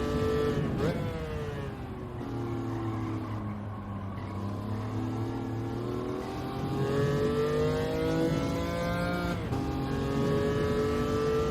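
A car in a racing video game accelerates around a circuit taken in reverse, its engine note rising and falling through the gears in a steady, loud whine, with a brief pitch dip where the speed drops.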